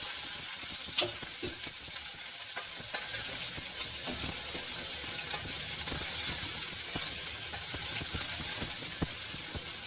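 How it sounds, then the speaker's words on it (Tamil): Onions, with garlic added, sautéing and sizzling in a pan, a steady close frying hiss with small crackles and pops throughout, no talking. "இது ஓரளவுக்கு வெங்காயம் வதங்கினா போதும்."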